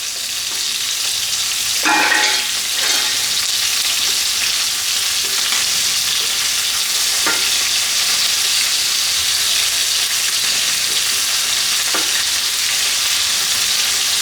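Salt and pepper shrimp (prawns) frying in a pan, a steady close sizzle with a few brief clinks and stirs, and no talking.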